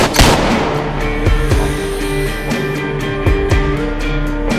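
Heavy gunfire booms out in a rapid series of loud, rolling reports over a dense, continuous rumble, with strong echoing blasts and no voices.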